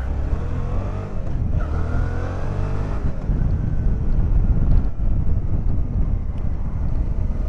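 A Suzuki V-Strom 650 motorcycle engine revs and accelerates steadily, its pitch rising under heavy wind rush, loud and close throughout with no talking.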